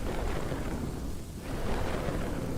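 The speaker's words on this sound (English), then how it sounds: "it's raining" Rain in the medieval city-builder game Kingdoms and Castles falls as a dense, steady rushing wash with a low rumbling underneath, continuous and fairly loud throughout.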